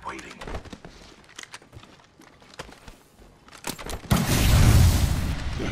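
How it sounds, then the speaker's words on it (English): Gunfire crackles during an Apex Legends battle royale match: scattered sharp shots and thuds at first, then a dense, loud barrage of shooting and impacts in the final seconds, with voices underneath. "Taking fire. Getting shot at."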